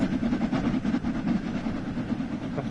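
Train running in Train Sim World 3 on the Manchester Piccadilly to Glossop line, a steady rumbling roll with faint rhythmic clatter, close and continuous, no voices.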